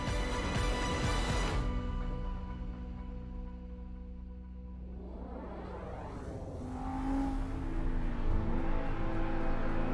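Audi R8 V10 Plus supercar engine, a loud sustained roar that drops off and then builds again as it revs up and accelerates, close and dominant throughout.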